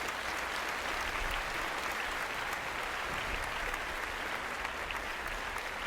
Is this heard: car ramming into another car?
no